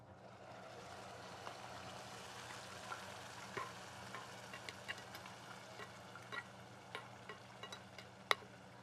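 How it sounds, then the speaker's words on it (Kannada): Ground masala and onions fry steadily in a pan with a soft, continuous sizzle, broken by small scattered pops and light ticks, quiet and close. "ಇದು ರುಬ್ಕೊಂಡಿರೋ ಮಸಾಲೆ ಹಾಕೊಂತ ಇದ್ದೀನಿ."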